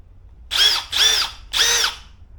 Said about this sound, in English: So the idea behind this is so it just drills and breaks the weld, the spot weld